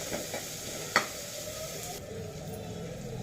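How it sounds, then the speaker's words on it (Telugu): Onions fry in a pan toward golden brown, a gentle steady sizzle nearby with one sharp scrape of a spoon partway through. "ఉల్లిపాయలు కొంచెం బాగా గోల్డెన్ బ్రౌన్ వచ్చేంత వరకు మగ్గిద్దాము"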